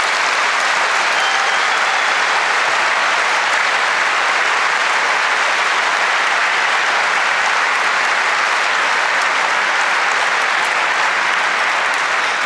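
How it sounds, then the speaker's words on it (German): Sustained, loud applause from a large audience at a hacker conference's annual review session, a dense steady clatter of clapping hands filling the room without pause for the full stretch. "Dafür bitte ich nochmal einen großen Applaus."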